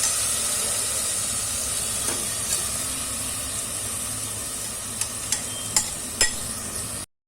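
Soaked dal and rice being stirred into a hot pan for dal khichdi, a steady close sizzle and hiss with scraping stir strokes and a few sharp clicks near the end, no talk.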